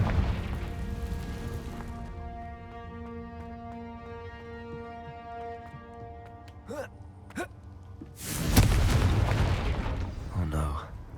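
A Confringo spell explodes in the Hogwarts Legacy video game, a sudden loud broadband burst about eight seconds in that follows sustained tonal game music and a couple of short swishes, then rumbles and decays.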